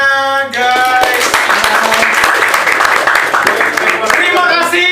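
Lively audience clapping at a YouTuber meetup in Banjarmasin, Borneo, dense hand claps rising after a held musical tone and continuing steadily, close and loud, with voices mixed in.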